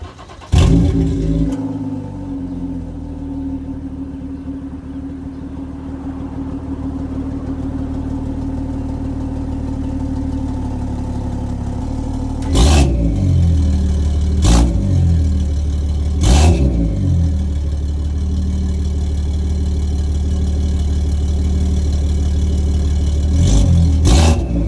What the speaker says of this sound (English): So let's go ahead and get a first start up.